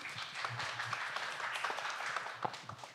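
Audience applause at a safety research presentation meeting, moderate and fairly distant clapping with some crowd murmur, continuing steadily for a few seconds.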